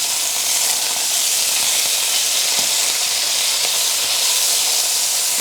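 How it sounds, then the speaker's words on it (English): Steak pieces browning in oil and lard over medium-high heat, giving a loud, steady broadband sizzle that holds without pause. "Cook them over a medium-high heat until they're lovely and brown on both sides"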